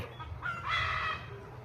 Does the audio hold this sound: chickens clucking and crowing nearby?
yes